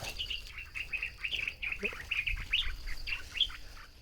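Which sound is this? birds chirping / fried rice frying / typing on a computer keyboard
birds chirping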